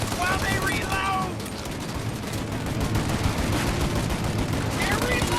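Dense, continuous gunfire in Mafia Definitive Edition, rapid machine-gun bursts and overlapping shots at close range, with shouting voices cutting in over the firefight.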